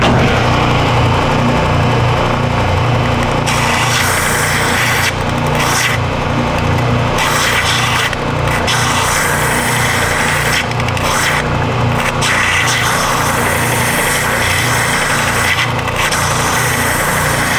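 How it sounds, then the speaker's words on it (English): A wooden top blank spun slowly against sandpaper to true it into a circle, a continuous loud rasping grind with a few short pauses and a motor hum underneath. "I can inch the circle into the sandpaper and then slowly spin the blank and get closer to a perfect circle"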